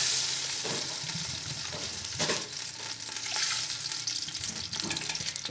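Oil sizzles steadily in a pan, making a loud, continuous hiss with crackling pops as it heats for an aloo matar moongre sabzi. There is no speech.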